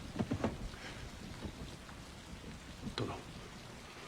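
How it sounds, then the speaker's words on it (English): Rain falls steadily in a scene from the TV series Shogun, a soft continuous hiss with a few light taps, while someone speaks briefly in Japanese over it. "How do they not fall asleep sitting and listening to the sound of that rain?"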